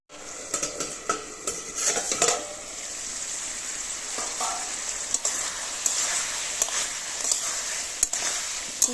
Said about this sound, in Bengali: এবার আমি এটা একটু নাড়াচাড়া করে নিয়েছি